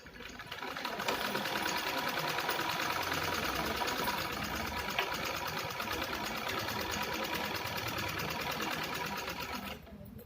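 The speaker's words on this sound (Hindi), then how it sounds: "तो चलिए मशीन पे आपको दिखाते हैं कि कैसे इसकी पाइपिंग लगेगी और कैसे इसकी सिलाई होगी।" A sewing machine runs steadily for about nine seconds, stitching piping onto fabric for a homemade organizer with pockets. It whirs fast, even and close, with no voices, then stops.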